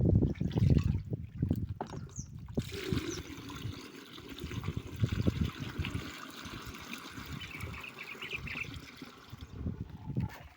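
Water poured from a bucket into an agricultural spray pump, a continuous splashing and gurgling stream with uneven surges, close and moderately loud, ending in trickles.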